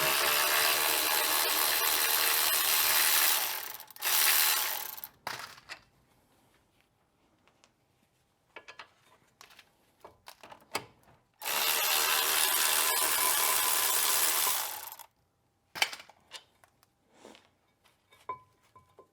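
Power tool or air ratchet whirring in two long sustained bursts while undoing brake caliper bracket bolts on a Renault Scenic 3 front brake, with short clanks and tool handling between runs and no talk.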